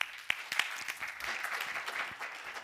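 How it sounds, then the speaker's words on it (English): Audience applause at a digital art talk in Paris, a soft, fairly distant patter of clapping hands lasting a few seconds with no voices over it. "Please give us a big round of applause."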